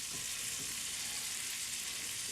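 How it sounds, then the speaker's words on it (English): Ground lamb searing and browning in a hot pan, a steady, dense sizzle that holds at an even level throughout, with no talk over it. "You want the lamb to really sear and brown and not boil"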